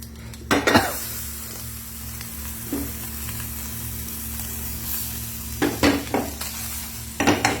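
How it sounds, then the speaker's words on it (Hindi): Food frying in plenty of butter in a pan, a steady close sizzle broken by several sharp clinks and scrapes of a utensil against the pan as it is turned over, with no talking. "दूसरी तरफ से हम इसको फ्राई करेंगे। बटर मैंने काफी डाल दिया,"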